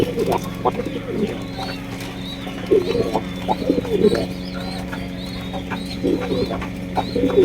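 Homer pigeons coo repeatedly in a low, throaty rhythm at moderate distance, with soft bird chirps over a constant background hum.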